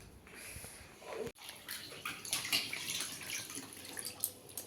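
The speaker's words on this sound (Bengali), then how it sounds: "মাছটাকে ধুয়ে নিচ্ছি ভালোভাবে, ধোয়া হয়ে গেছে।" A fish being rinsed under a running kitchen tap, a steady, soft stream of water splashing with a brief pause near the start, faint and close, with no speech.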